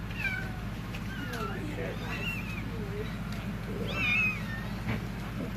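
Tiny kittens mew again and again, with thin high calls overlapping through the clip at close range over a low steady hum.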